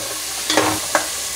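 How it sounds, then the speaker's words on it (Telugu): Onions fry with ginger-garlic paste in a pan for Hyderabadi chicken biryani, a soft sizzle broken by two quick scraping stirs close by, no talking. "ఇది బాగా ఇలా కలుపుకొని గోల్డ్ కలర్ వచ్చే వరకు వేయించుకోవాలి ఫ్రెండ్స్"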